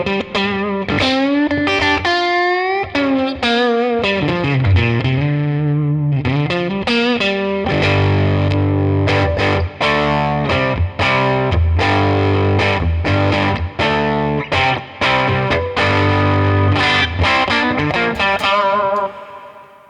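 A heavily distorted electric guitar played through an IK Multimedia TONEX amp modeler, cranked loud, opening with sustained bent notes and then moving into dense, chugging riffs and chords with a saturated, effects-laden tone.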